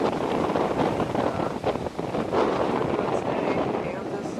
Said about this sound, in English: this wind is really blowing today